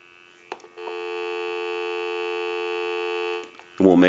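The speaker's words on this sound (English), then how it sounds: "So go ahead and give you some dial tone." A steady dial tone on an AT&T 530 Trimline telephone hums for about three seconds after a couple of clicks, then cuts off with a brief burst of noise.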